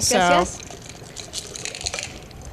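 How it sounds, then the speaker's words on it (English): Drinks bubbling with dry ice: soft liquid fizzing and gurgling, faint and intermittent, with a brief louder tonal voice burst at the start and some talk around it. "our drinks are still bubbling"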